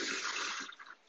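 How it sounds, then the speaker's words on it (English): A light toilet flush: a brief rush of water that sounds loud and close, then thins into trickling and fades within about a second. "Light flush."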